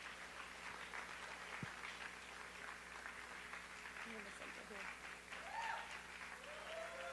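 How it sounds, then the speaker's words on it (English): Audience applause at a live musical concert, a steady wash of clapping that runs throughout at a moderate distance, with faint voices and a few whistles rising above it toward the end. "Big round of applause, everybody."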